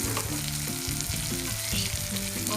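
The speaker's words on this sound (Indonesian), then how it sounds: "Goreng bumbu hingga harum." Spice paste of lemongrass, galangal, ginger and lime leaves frying in hot oil with petai beans, a steady close sizzle with stirring scrapes throughout, no voices.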